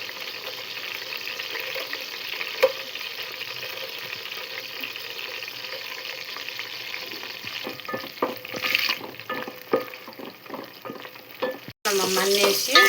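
Bagara chicken curry with spices being stirred in a pan, old Telangana style: a steady close sizzle with rhythmic scraping strokes of a spoon, growing choppier toward the end before a louder burst of frying.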